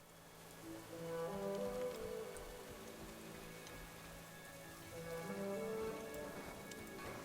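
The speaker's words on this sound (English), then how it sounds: "Hold a big umbrella to protect from rain." Steady rainfall patters on surfaces in the World of Warcraft game world, a continuous soft hiss of drops that swells slightly in the middle and near the end, with no talking.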